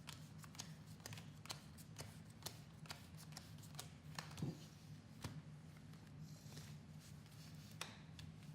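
A deck of cards for the XenoShyft board game is shuffled up close, producing a quiet run of crisp riffling clicks and soft flutters at an uneven rhythm.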